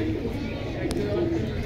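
Pigeons at a pigeon market in Jinjira bazaar give soft, low coos under close conversation in a brief, busy stretch.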